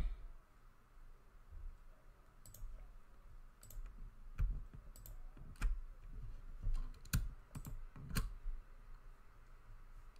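Computer mouse clicking at a desk during a craft design session, a series of sharp isolated clicks spaced irregularly over faint quiet room tone.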